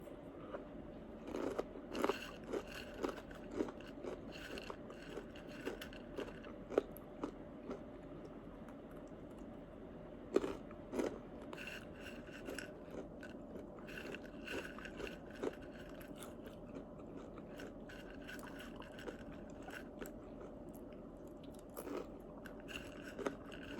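Crispy deep-fried chili snack, original flavour, being bitten and crunched, with repeated close crackly bites and chewing running steadily throughout.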